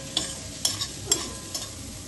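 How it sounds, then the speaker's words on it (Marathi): Onion and ground masala paste frying in a pan, a constant close sizzle with four short, evenly spaced stirring scrapes, no voices. "आता कांदा थोडं परतून झालं पिंकिश कलर, त्यात मिक्सर वाटण सगळं टाकून द्यायचं"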